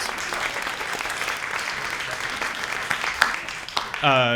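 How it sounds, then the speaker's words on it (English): Audience at a Bookshop Santa Cruz evening event with Santa Cruz Shakespeare applauds steadily throughout, a dense wash of clapping that swells slightly near the end as a voice begins speaking over it. "Yes, applaud for this event."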